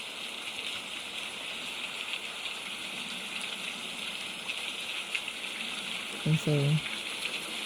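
Steady rain falling on a makeshift indoor tent fort, a constant even hiss with no let-up, and a brief spoken phrase near the end.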